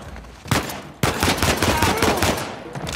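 Gunfire in the video game Uncharted 4, rapid bursts of automatic shots and blind fire in a firefight, loud and dense with a sharp crack near the middle.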